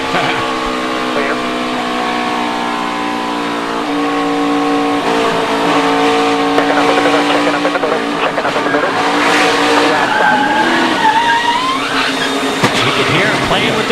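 NASCAR race car getting loose and spinning on track, loud engine roar with rising and falling pitch and tire squeal as it slides, with a commentator talking over it.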